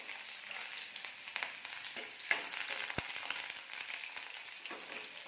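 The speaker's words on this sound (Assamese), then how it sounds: "মই এতিয়া ইয়াতে পিঁয়াজখিনি ঢালি দিম। এয়া পিঁয়াজ দিলোঁ।" Onions sizzle steadily in hot oil in a pan for a pork dish, a continuous close frying hiss with small crackles and a few clinks, no talking.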